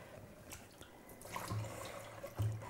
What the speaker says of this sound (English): And then immediately you will throw it into cold water.